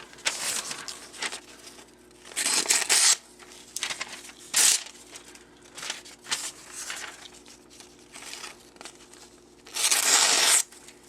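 A sharpened knife, honed on a Lansky Turn Box and strop, slices through a sheet of paper in a cut test, giving several close, brief bursts of crisp rustling and tearing separated by quiet pauses, with no talking.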